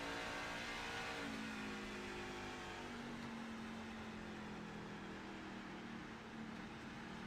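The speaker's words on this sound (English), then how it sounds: "listen to Jimmy's truck here, just it's not wound up" Racing truck engine in a video game truck series race at Milwaukee, a steady high-pitched drone with a rising whine, running loud and continuous without pause and no talk.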